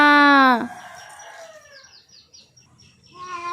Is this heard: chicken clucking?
yes